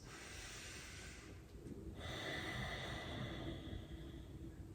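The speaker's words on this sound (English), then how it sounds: "This time exhaling through the nose." A steady breath pushed out through the nose during a standing mobility yoga session, a soft airy rush that runs for several seconds, close and fairly quiet, alone with no talking.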